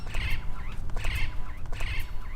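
Superb parrots give a repeated series of harsh, chattering calls in a steady rhythm, fairly close and clear over faint background noise.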